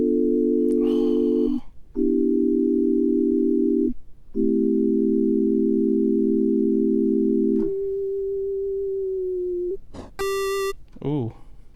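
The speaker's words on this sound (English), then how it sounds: "they're all different kinds of chiptune sounds that you've heard" Retro chiptune synth tones from an easy chiptune music tool, with sustained square-wave chords, a sliding single note, and short arpeggiated blips and a bright descending chirp, loud and clear throughout with no talk.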